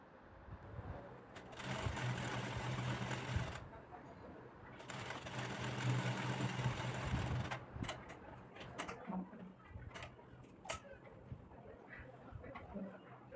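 A sewing machine stitches a double-folded hem on a blouse in two sustained runs of rapid, whirring stitching, close by, followed by scattered clicks and handling noises.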